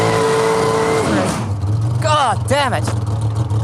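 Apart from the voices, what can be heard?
dragster doing a tyre burnout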